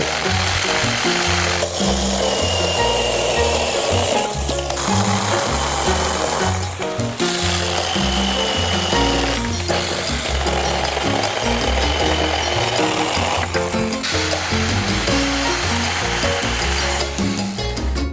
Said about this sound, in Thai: ทีนี้มาลองประสิทธิภาพของเล ื่อยบาโซ่ไร้สายตัวนี้กันบ้าง